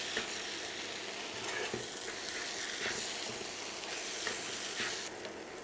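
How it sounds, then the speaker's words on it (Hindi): Bread pakora filling fries steadily in a pan, a continuous loud sizzle and crackle with occasional stirring scrapes throughout, no voices. "इसे 2-3 मिनट तक फ्राई करना है"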